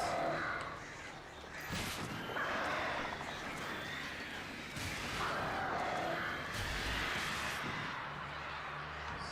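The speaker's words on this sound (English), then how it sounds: "If I get killed by these freaking crows, I swear." Crows caw in the video game Alan Wake: several harsh, loud calls come in bursts over a dark, rumbling game backdrop.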